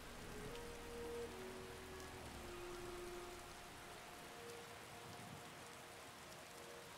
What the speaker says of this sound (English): obviously it's raining, so that's very lovely